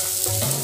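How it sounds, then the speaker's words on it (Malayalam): Coconut spice paste for chicken thoran sautés in a pan, giving a brief, steady, close sizzle with no talking. "അരപ്പ് നമ്മൾ ചെറുതായിട്ടൊന്ന് അതിൻ്റെ പച്ചമണം പോകാനായിട്ടൊന്ന് വഴറ്റിയെടുക്കുകയാണ്."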